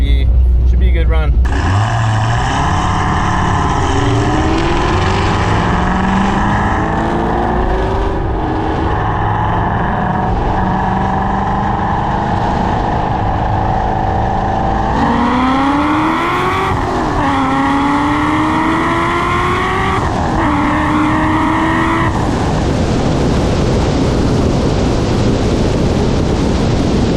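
An 850 whp Corvette C6 Z06 on a roll racing run roars loud and close, its engine pitch climbing repeatedly through the gears. The tires squeal as they fight for traction, and the engine finally backs off.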